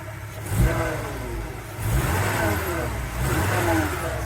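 An Audi 4000 Quattro engine idles steadily at close range with a low, even rumble, swelling slightly a few times.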